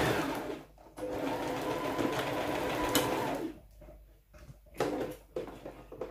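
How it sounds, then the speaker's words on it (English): Sewing machine stitching a women's notched-collar jacket through lining and fabric together, a steady close whir running for several seconds, then stopping and restarting in short bursts. "So you just continue sewing from here carefully."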